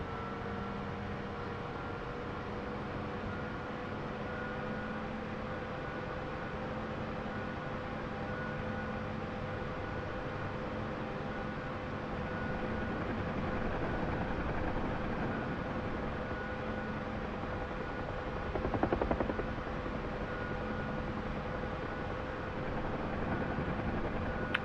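Huey helicopter in a flight simulator game, a steady droning engine and rotor hum with a constant tone, holding level throughout with a brief louder swell near the end.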